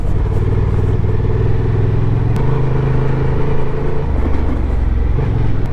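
A Honda Transalp 750cc motorcycle rides in second gear on gravel, its engine a loud, constant close-up drone whose pitch shifts slightly partway through.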